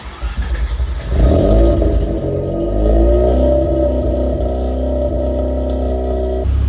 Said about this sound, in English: start up the car, and go out for a test drive